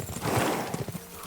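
Horses trot in the medieval video game Kingdom Come Deliverance 2, with rhythmic hoof clip-clops over a broad rushing wash of movement noise, fairly close and steady.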